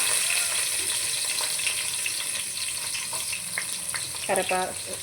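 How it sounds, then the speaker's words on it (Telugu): Cumin, fenugreek, onion and garlic dropped into very hot oil for a brinjal curry, giving a close, steady sizzle with a few utensil clinks near the end. "ఆయిల్ అయితే బాగా హీట్ ఎక్కిపోయింది. ఇప్పుడు దీంట్లోకి జీలకర్ర, మెంతులు, ఎర్రగడ్డలు, తెల్లగడ్డలు"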